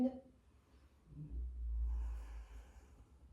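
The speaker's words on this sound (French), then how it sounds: "je regarde droit devant moi et je fais 3 respirations" A slow, deliberate breath is drawn and released while holding yoga goddess pose, a single long airy exhale close to the mic after a brief voice at the start.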